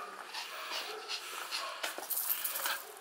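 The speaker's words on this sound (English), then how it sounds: "You can even hear his breathing." An excited dog pants in quick, breathy bursts close by during an obedience training session, the rapid rhythm continuous and loud with no words spoken.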